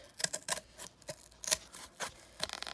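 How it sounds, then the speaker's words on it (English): Scissors cut through cardboard in a series of short, crisp snips and crunches, several distinct cuts spaced irregularly and heard close up with no talking. "These scissors aren't very good for cutting cardboard."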